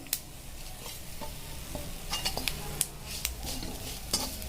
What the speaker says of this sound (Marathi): हे पण छान प्रकारे आपल्याला असं भाजून घ्यायचं आहे